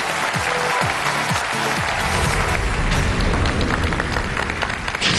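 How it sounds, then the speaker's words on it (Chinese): A studio audience gives dense, sustained applause for a pair of crosstalk comedians taking the stage, loud and steady throughout, with a few low thumps early on. "感谢大家的掌声"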